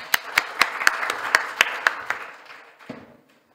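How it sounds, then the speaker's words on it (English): A small audience at an annual meeting claps for a group coming up to report back from a round table dialogue, a dozen or so sharp, fairly sparse claps that fade out after about three seconds. "round of applause for this group"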